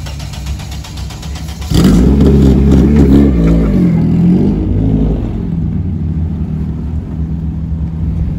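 Race car on a timed lap, the engine bursting in loudly after a quieter start and revving hard with rising and falling pitch, then settling into a steady lower drone as the car moves away.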